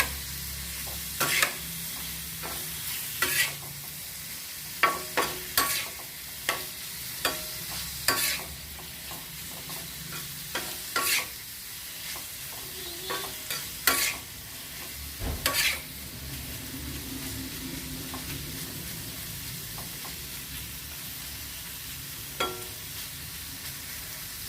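Paneer fries in a little oil on a tawa, giving a soft continuous sizzle broken by irregular sharp clacks and scrapes of a spatula turning the pieces.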